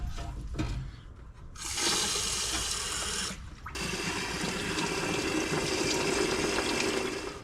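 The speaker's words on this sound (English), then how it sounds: "this is the water coming out of the radiator" Water from a garden hose gushes through a Jeep radiator during a flush, a loud steady rushing spray that briefly cuts out and then surges back, with no talking.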